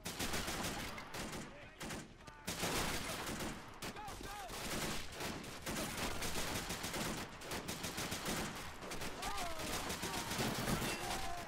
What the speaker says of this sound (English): SMG spraying wildly.